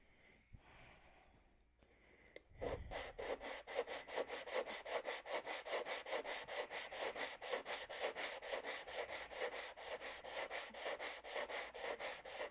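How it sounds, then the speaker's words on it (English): Hand sanding wood with a long T-bar sanding block on a Tucker XL wing, a rapid rhythmic back-and-forth rasp of many even strokes, close and steady, after a few quieter shuffles and a thump. "Keep sanding until you hear the sound change."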